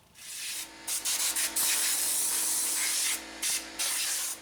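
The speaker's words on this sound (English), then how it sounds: "I'm going to take some compressed air and we're going to blow this whole area off" Compressed air blasts debris off the spark plug area of a Honda Element engine, a loud, close hiss delivered in several bursts of varying length, with short pauses between them and no talking.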